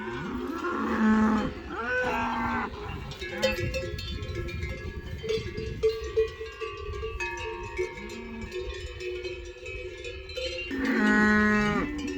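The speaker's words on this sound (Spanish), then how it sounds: "Mirad qué ejemplares pasan por ahí. Qué ejemplares. Vaya vaca." Avileña cattle, a native breed of Ávila, moo loudly in repeated long bellowing calls at the start and again near the end, with a cowbell clanking steadily in between and a voice faintly present.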